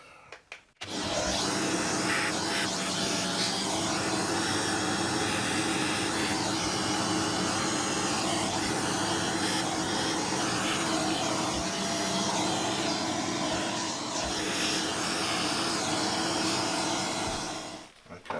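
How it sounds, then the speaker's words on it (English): A vacuum cleaner roars steadily and close by for nearly the whole stretch, its loud whine shifting slightly as it moves over surfaces. "Vacuum to the rescue."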